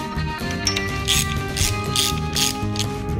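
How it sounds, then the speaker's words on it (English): A hand ratchet clicks in rapid rhythmic bursts, driving bolts into a KA24E engine bracket on a Nissan 240SX, close and loud over a steady background hum. "I just kind of guide them in before I tighten them down with the ratchet"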